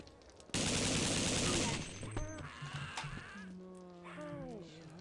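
A dense, loud burst of machine-gun fire in the video game They Hunger lasts just over a second, then gives way to scattered clanks, creature-like wailing cries and a voice.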